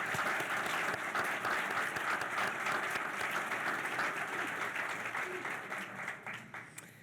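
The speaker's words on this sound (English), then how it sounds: "Let's show our appreciation to all the nominees, especially the outstanding group of nominees joining us at table 14 with a round of applause." A round of applause for nominees at a nurses' awards event, dense sustained clapping from a large seated audience that holds steady for about six seconds, then thins and fades out at the end.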